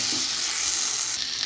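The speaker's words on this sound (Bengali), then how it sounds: "মশলার সাথে ডিম আলু ভালো করে মিশিয়ে নেব" Steady frying sizzle as boiled eggs and potatoes are stirred into hot, oily masala in a Bengali egg-potato dish, close and continuous with no talk.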